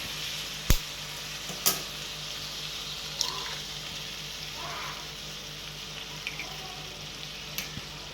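Egg cooking in a pan of fried honagane greens, a soft continuous sizzle with a few sharp spatula clicks and scrapes scattered throughout, no voices.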